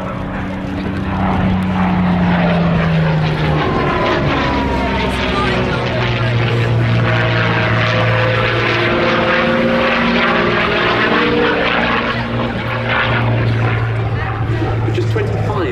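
Curtiss P-40C Warhawk fighter flying at the Duxford Battle of Britain airshow, its piston engine droning loud and steady with rising and falling pitch as it passes, a commentator talking over it throughout.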